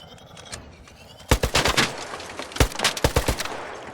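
Gunfire in the video game ARC Raiders crackles out in two rapid volleys of sharp shots, a quieter lone crack coming first.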